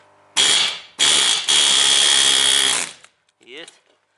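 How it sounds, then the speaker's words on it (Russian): A pneumatic air chisel knocks rivets out of a Chevrolet Lanos front suspension control arm, three loud close bursts of rapid hammering separated by brief pauses, followed by a short fainter tool sound. "Теперь берем пневмозубило и сбиваем заклепки."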